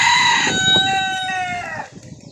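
A small wild junglefowl (labuyo) with a black face gives one loud, close crow of about two seconds. The call is ringing and drawn out, then fades into quiet background.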